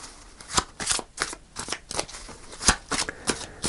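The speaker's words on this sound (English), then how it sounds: "So I'm going to pull three cards" Tarot cards are shuffled by hand in a series of crisp, papery riffles and slaps, about a dozen quick bursts in an uneven rhythm, close and clear with no talking.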